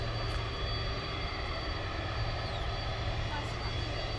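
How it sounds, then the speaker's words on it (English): A UPS Boeing 747 moves on the ground at DFW airport at night. Its engines make a faint, steady hum from a distance. "We can now tell you that the UPS 747 is in motion."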